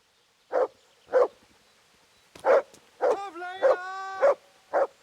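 Tinker the dog in the video game A Woman's Lot barks in short separate yaps at a steady pace, with a drawn-out whining whimper partway through. The barks are close and clear over a quiet background.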